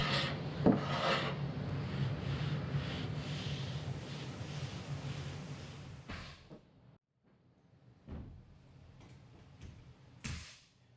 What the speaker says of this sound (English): scrape it with the chisel